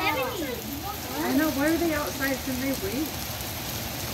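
Steady rain patters on surfaces throughout, while people talk over it close by.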